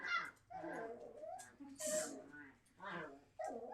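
Alaskan Klee Kai puppy whimpering and yipping in short high bursts, heard close by and mixed with someone talking over it.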